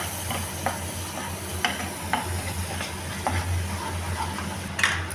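A utensil stirs black sauce and tomato ketchup in a sizzling pan while making chicken Manchurian, with a steady low frying hiss under intermittent clicks and scrapes of the spoon against the metal.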